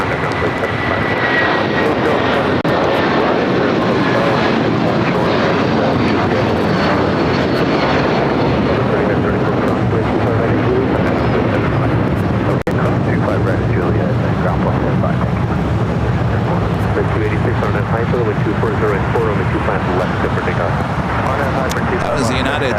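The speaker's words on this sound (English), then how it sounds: "That was the United 757 at 300 heading to Dulles, taking off on 25 right." United Boeing 757 taking off on runway 25 right at LAX, a loud, sustained broadband jet roar that swells and slowly fades over many seconds, heard at a distance across the airfield with occasional talk over it.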